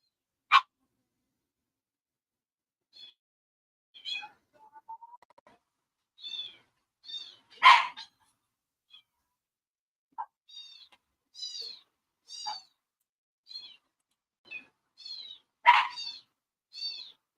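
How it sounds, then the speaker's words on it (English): A cat meows repeatedly in short, clear cries with quiet gaps between them, and a couple of louder, sharper sounds mixed in that could be a dog's barks. "my dog, my cat, and the chickens are so noisy this July 5th"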